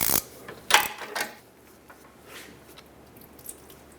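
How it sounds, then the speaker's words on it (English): Close metallic clicks and a brief ratcheting burst as an oil filter wrench breaks loose the oil filter on a 2008-2012 Honda Accord 3.5L V6, followed by faint handling noises, with no talking. "With the help of a wrench, loosen it up."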